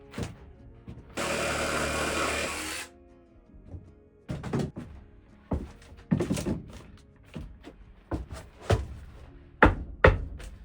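A power drill driving screws into wooden interior paneling in a small off-grid A-frame cabin, one sustained whirring run followed by a string of short bursts, knocks and thumps of the boards.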